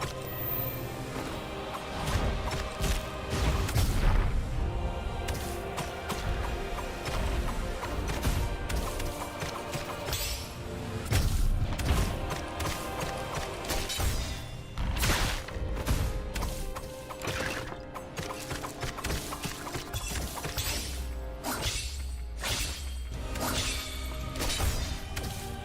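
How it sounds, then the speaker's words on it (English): Combat in the video game The End of Illusions, with explosions mixed into a steady stream of whooshes, whip-like swishes and crashing hits over busy game audio, loud throughout. "I can really only get like 3 explosions in"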